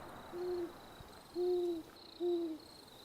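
An owl gives three low, hollow hoots at an unhurried pace in Yosemite National Park, with a faint steady high hum behind them.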